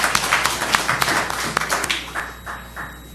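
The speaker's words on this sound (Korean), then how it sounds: "우리 박수로 하나님께 영광 올려드리겠습니다." A church congregation applauds during a service, a steady patter of many hands clapping at moderate volume that thins out toward the end.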